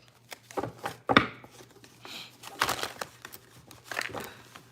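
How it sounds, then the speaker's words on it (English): Tarot cards are shuffled by hand during a live reading, giving several brief, close, papery riffles and crinkly bursts separated by short quiet gaps. "let me get some shuffling here"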